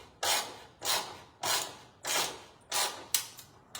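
A self-tapping screw driven slowly by hand during boat motor and trailer maintenance, five or six even grinding, rasping turns spaced about half a second apart, close by and with no voices.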